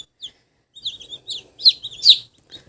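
Eight young Cochin chicks peep in short, high-pitched chirps, scattered and irregular, close by and fairly clear against a quiet background.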